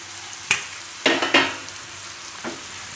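Roti pieces are stirred into a buttermilk tempering in a pan: a low sizzle runs underneath a few sharp spatula scrapes and clinks, brief and close, with no talk.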